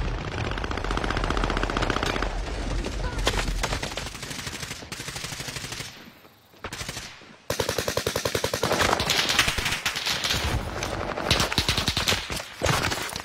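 Gunfire in a shooter video game crackles in long, dense automatic bursts that are loud and nearly continuous, broken by a brief lull before the firing resumes at full intensity.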